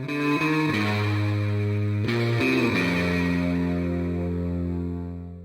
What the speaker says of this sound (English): We're playing with a few different tones here, especially with this low lead guitar, which is actually a double of the synth bass.